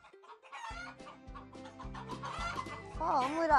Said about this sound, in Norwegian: Vi har frittgående høner.